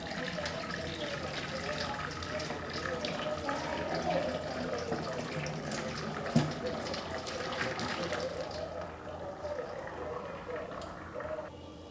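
Meat broth pours through a strainer into a pot, making a continuous close splashing and trickling liquid sound that tapers off toward the end, with someone speaking faintly under it.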